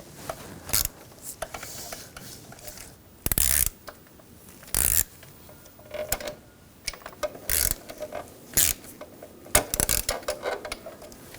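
Ratchet clicks in short bursts while front bolts are tightened on a 2009-2017 Volkswagen Tiguan 2.0L engine, repeated ratcheting spurts separated by pauses, close and moderately loud, no talking.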